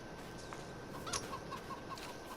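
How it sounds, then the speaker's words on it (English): Faint, scattered clucks from farm chickens on an old, long-abandoned farm, a few short calls spread over a steady outdoor background hiss. "our chickens are doing well."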